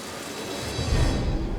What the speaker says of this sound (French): Nouvel assaut, nouvelle pluie torrentielle,